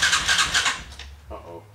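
A Yamaha TTR225 motorcycle, just fitted with a new stator, is cranked with a brief whirring starter burst and then a short sputtering catch, close up, with people talking nearby.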